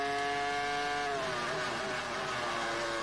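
Formula 1 cars with Ferrari-Petronas and Toyota engines race downhill at the 2002 Belgian Grand Prix, a loud continuous high-pitched engine whine that shifts down in pitch partway through as the cars pass.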